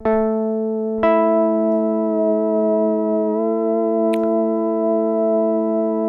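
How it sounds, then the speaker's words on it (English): A synth tone run through the Intensive Care Audio Fideleater lofi pedal holds a sustained, harmonically rich note with a subtle slow pitch warble, retriggered once early and continuing steadily, with a brief sharp click near the end. "used that warbly tone to basically give a slow vibrato to the pitch"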